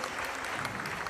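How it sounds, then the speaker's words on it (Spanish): A crowd at a Huapango Huasteco dance contest in Las Joyas, Querétaro, claps steadily and densely, a continuous patter of applause at moderate level with no pauses. "¡Fuerte el aplauso, hombre!"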